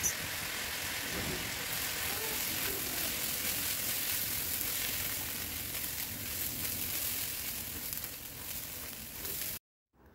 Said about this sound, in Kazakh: қызып тұрған майда күрішімізді 2-3 минут қуырып аламыз